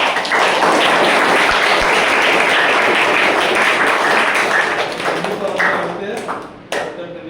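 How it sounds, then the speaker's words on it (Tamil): Students in a school classroom applaud a former student, a loud, dense roar of clapping that holds steady and then thins and tapers off toward the end. "நான் அவருக்கு கைத்தட்டல் கொடுத்தேன்"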